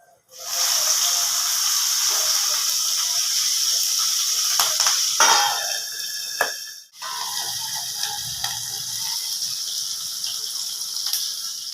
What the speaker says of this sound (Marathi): तेल चांगलं तापलेलं आहे मिरच्या घालून घेऊ